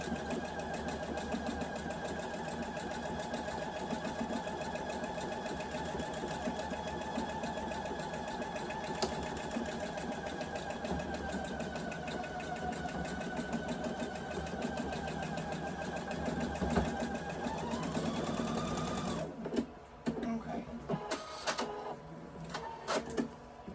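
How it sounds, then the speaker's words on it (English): A sewing machine stitches a quilt block made of fabric pieces, running with a steady close mechanical whir and rapid needle chatter for about twenty seconds, then stops abruptly and leaves only faint handling noises. "We're going to stitch this."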